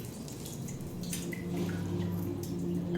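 Shower water leaking and dripping inside a room in the video game SOMA, heard as a soft, steady trickle with scattered drips under a low ambient hum.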